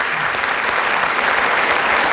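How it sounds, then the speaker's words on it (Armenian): An audience at a stand-up comedy show breaks into loud, warm applause for the young people on stage, a dense and steady wash of clapping that carries on for the whole stretch with no pauses. "եկեք մենք էլ մի հատ մեր երիտասարդներին շատ ջերմ ծափահարենք"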